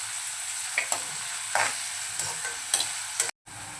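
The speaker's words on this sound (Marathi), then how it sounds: "कांदा आपण नरम होईपर्यंत परतून घेऊया" Onion fries in a pan with a steady close sizzle, while a spatula scrapes and knocks the pan in a few distinct strokes, then the sound cuts off briefly.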